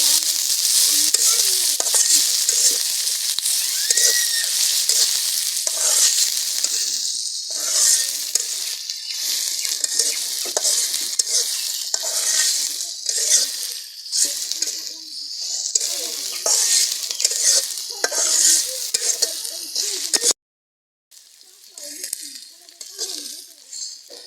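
Okra with green chillies and chopped onion fries in a pan with a steady, close sizzle, broken by frequent stirring scrapes; the hiss drops out briefly near the end, then resumes more faintly.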